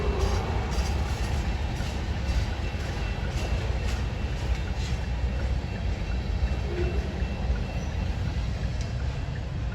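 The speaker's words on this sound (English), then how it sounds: "It's a cool little train though." A small train rolls past steadily for the whole stretch, a continuous low rumble of wheels and cars with faint clicking on the rails, fairly close and unbroken.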